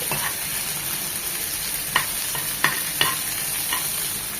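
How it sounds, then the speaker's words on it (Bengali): Shrimp frying in a pan with browned onion and chopped garlic for a water lily stir-fry, a continuous close sizzle punctuated by several sharp spatula strikes against the pan. "দিয়ে দিব চিংড়ি মাছটা, জাস্ট 1 মিনিট একটু ভেজে নেব"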